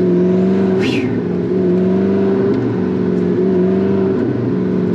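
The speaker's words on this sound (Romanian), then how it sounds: "Și auzi și turbinele un pic." The twin-turbo engine of a McLaren MP4-12C drones steadily and close as it revs, its rising harmonic note carrying a faint turbo whir and one brief airy whoosh near the start.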